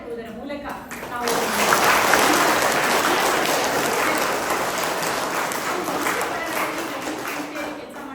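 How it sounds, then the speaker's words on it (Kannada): A crowd of audience members bursts into loud, sustained applause after a brief voice, the dense clapping swelling quickly and continuing steadily for several seconds. "ನಾವೆಲ್ಲರೂ ಜೋರಾಗಿ ಚಪ್ಪಾಳೆ ತಟ್ಟುವುದರ ಮೂಲಕ"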